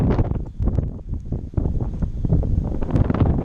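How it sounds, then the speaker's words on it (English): Wind gusts buffet a microphone outdoors at a horse arena, a continuous low rumbling roar that swells and dips for the whole stretch. "Here comes the wind."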